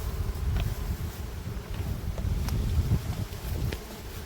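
Honey bees flying in and out of a hive while carrying pollen make a steady, diffuse buzzing hum outdoors with light wind noise, continuous and close.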